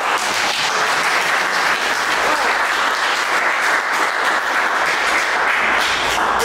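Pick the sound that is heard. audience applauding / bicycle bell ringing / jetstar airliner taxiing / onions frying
audience applauding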